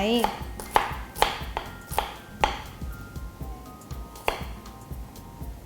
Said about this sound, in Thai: ซอยหัวหอมนะคะ เตรียมเอาไว้